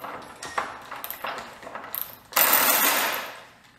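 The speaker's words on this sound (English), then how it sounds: "I'm gonna try and just use it as a regular ratchet to break it free, and then, you know, use the power to actually pull it off" A Milwaukee M12 cordless ratchet breaks a stuck fastener free, giving a few sharp metallic clicks and pings followed by a louder, rising mechanical whir that fades out, close up with no talk.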